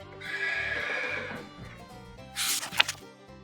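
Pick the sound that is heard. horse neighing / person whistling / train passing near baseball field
horse neighing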